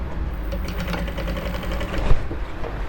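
A sewing machine top stitches an Ankara top in a steady, rapid mechanical whir of closely spaced needle strokes, running continuously at moderate loudness with no voices.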